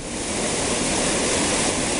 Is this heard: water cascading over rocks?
yes